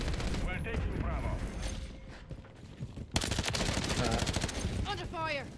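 Rapid automatic gunfire in Call of Duty Modern Warfare III multiplayer, dense bursts of shots crackling close, with a loud volley in the second half and game voice callouts over it.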